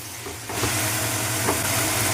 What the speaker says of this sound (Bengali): তারপর দইটা দিয়ে আমি ভালো করে এমন করে কষিয়ে নেব যাতে দইটা মশলার সাথে ভালো করে মিশে যায়